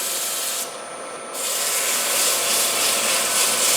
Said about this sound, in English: one of the big advantages of sanding with oil, turning and sanding with oil, is you see there's just simply no dust